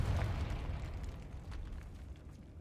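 Confringo blast spell in Hogwarts Legacy, a deep booming explosion with a rumbling tail that slowly fades over about two seconds.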